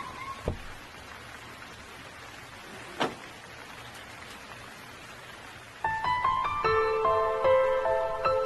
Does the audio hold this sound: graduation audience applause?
no